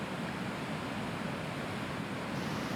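Rushing river water pours steadily over a weir on the Dubna, a loud, continuous broadband roar without pauses and with no voices.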